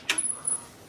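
Keys jangling, a quick bright metallic rattle close by that lasts under a second, with a couple of small clinks after it.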